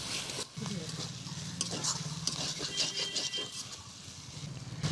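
Garlic, ginger, coriander, cumin and dried red chilli pastes fry in a pan for a fish curry, giving a soft, steady sizzle broken by the close scrape and clack of stirring, fairly quiet throughout.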